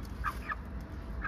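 Chickens in a coop let out a few short clucks, spaced at moderate distance over a low steady background hum.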